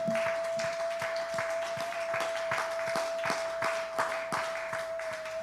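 A church congregation claps in a steady stream of many hands, moderately loud and continuous, with a sustained tone held underneath the whole time.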